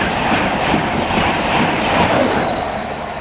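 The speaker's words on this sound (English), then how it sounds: "Now passing through is a Virgin Trains East Coast Class 91." A Virgin Trains East Coast Class 91 passes through a station on its way to London King's Cross: a loud, continuous rushing roar with faint clattering of wheels over the rails, steady throughout and slightly easing at the end.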